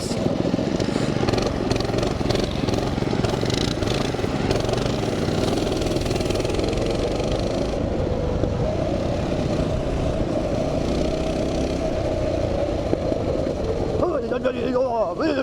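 Mini bike engine buzzing loudly and steadily close to the microphone while riding down a bumpy dirt road, with the engine note fluctuating over the bumps and a shift in pitch near the end.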